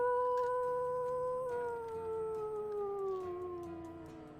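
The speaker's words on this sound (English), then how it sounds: "You all hear a light howl off in the distance" A single long howl rises faintly from a distance as a tabletop game sound effect, a wavering tonal cry that slowly falls in pitch and fades, with no talking.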